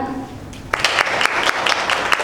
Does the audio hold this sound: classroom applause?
yes